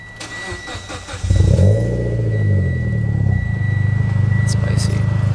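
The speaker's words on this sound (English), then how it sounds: "But I'm gonna get a couple more exhaust clips." A Mitsubishi Evo X with an ETS dual muffler V3 exhaust starts up close by, the starter cranking briefly before the engine catches with a loud bark and settles into a deep, throbbing idle.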